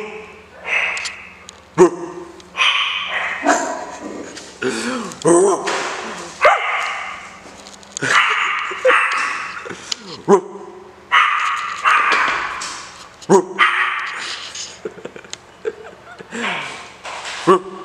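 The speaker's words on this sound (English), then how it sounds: "The dog's barking." A dog barks repeatedly in short bursts, fairly close, with people talking over and between the barks throughout.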